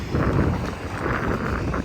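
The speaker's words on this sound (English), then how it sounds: "It's quite windy actually." Strong wind buffets the microphone in continuous low, blustery rumbles, gusting unevenly throughout with no voices.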